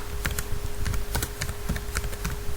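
Fast keystrokes on a computer keyboard while a value is entered into a spreadsheet cell, with close, crisp clicks tapping in an uneven run over a steady low hum.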